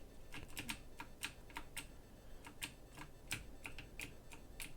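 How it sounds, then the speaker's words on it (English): Computer keyboard keys are pressed and released in quick, irregular clicks, faint and close, with no talking. "I am pressing and letting go of certain keys to make it do what I want"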